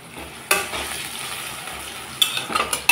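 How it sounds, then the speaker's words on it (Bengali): Potatoes fry in oil in a pan, a steady close sizzle with a few sharp clinks of a spatula or spoon stirring against the metal. "আলুটাকে এখন আমি লাল লাল করে ভেজে নিচ্ছি।"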